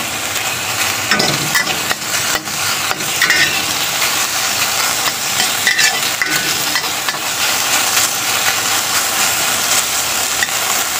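Pork frying and being stirred in a pan for a basic Chinese pork with choy sum dish, a steady dense sizzle with scraping stir sounds throughout, close and fairly loud, with no talking.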